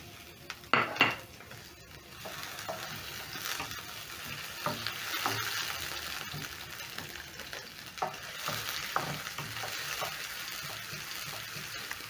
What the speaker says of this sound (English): I've added some oil to my pan, so I'm going to add in 1 large onion.